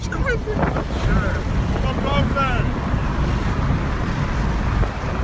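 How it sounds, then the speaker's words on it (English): Strong wind buffets a microphone during a rolling car shoot, producing continuous loud low rumbling gusts. Brief voices and whistling tones come through near the start. "It's going to be really windy."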